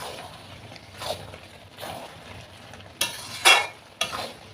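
A spoon stirs and scrapes jujube pickle with fennel powder in a pan. Several distinct scraping strokes land about a second apart over a soft, low sizzle, and two strokes near the end are louder.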